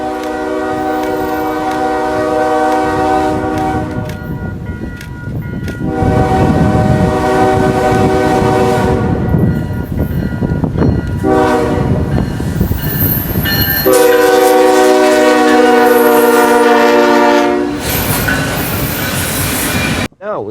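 A Norfolk Southern freight train rolls past close by, its horn sounding in several long, loud blasts over the steady roar and rumble of the cars.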